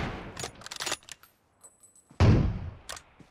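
Gunfire in the battle royale game PUBG on the Livik map, quick bursts of close shots with a few short quiet gaps, including one heavy loud blast midway.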